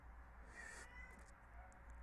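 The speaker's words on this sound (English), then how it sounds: "I'm sorry about the cat if you're hearing it." A domestic cat meows faintly in the background, a couple of short soft cries over a low steady room hum.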